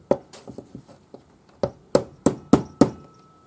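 Metal ring wire for a forged pearl ring is struck with a hammer on a hard surface, about a dozen sharp close taps in uneven bursts, growing louder toward the end, with no talk.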